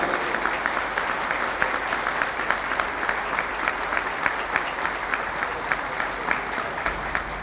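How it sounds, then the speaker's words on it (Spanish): A seated breakfast conference audience rises to give a strong round of applause to an incoming president of the Dominican Republic, dense and even clapping sustained loudly for several seconds. "Recibamos de pie con un fuerte aplauso al próximo presidente de la República"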